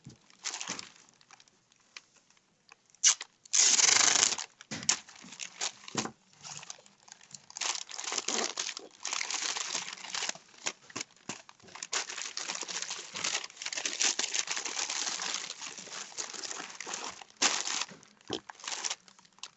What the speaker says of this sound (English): I'm just going to kind of pack that down in sections to make sure that this paper has enough give for my clay